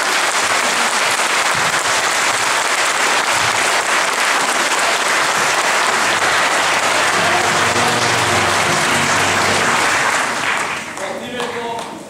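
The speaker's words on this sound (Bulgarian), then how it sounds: "А сега моля за вашите аплодисменти за нашите прекрасни танцори, певци и актьори." A large audience at a school performance applauds the dancers, singers and actors, with sustained dense clapping that holds steady for a long stretch before thinning out near the end.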